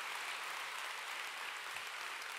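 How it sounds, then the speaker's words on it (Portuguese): A church congregation applauds, a soft, even wash of many hands clapping together at a distance, steady and faint for a couple of seconds with no voices over it. "Pode aplaudir o Senhor porque é verdade."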